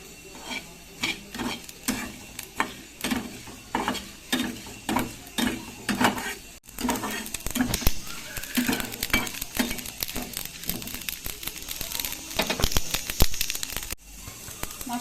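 Whole coriander, cumin and dried chillies dry-roast in a small wok while a utensil stirs them, giving steady rhythmic scraping and rattling clicks up close, followed by denser, continuous rustling and clinking.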